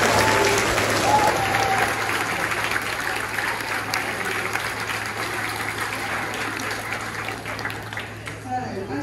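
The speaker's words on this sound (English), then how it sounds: "So a big round of applause for you" Sustained audience applause at a school awards presentation at a county agricultural show, a loud, even wash of clapping from a sizeable crowd lasting many seconds and only slightly tapering toward the end.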